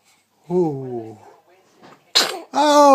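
A four-week-old baby sneezes, with a short whimpery vocal sound first and then a sharp burst, followed by an adult voice reacting close by.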